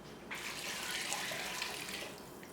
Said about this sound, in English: Now we're going to add some couple cups of water and then some veggie broth.